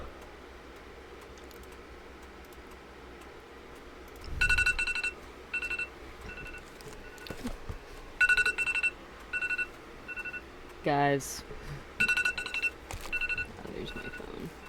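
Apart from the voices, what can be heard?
mobile phone ringing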